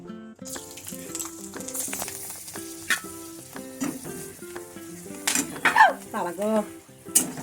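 Sun-dried pieces fry in hot oil with a busy crackling sizzle and occasional utensil clinks, heard beneath a running melodic music track that swells near the end.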